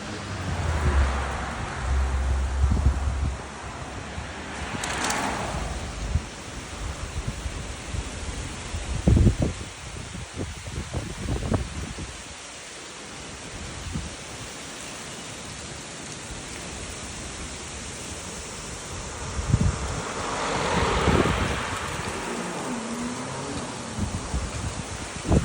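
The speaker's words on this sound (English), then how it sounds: "That's called the music of nature, sound of the wind." Wind blows outdoors as a broad, steady rushing hiss that swells in gusts, with low rumbles and a few brief knocks, and no clear talking.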